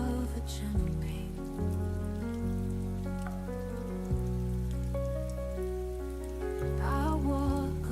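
Soft rain on a surface hisses steadily beneath a mellow musical backing of sustained chords and bass notes, with a faint sung voice in places.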